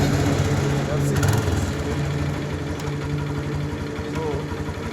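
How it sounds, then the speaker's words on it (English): A motorbike engine idles steadily and close by, with a low rumble and a light mechanical clatter that runs the whole time, while people talk faintly over it. "So the motorbike is on."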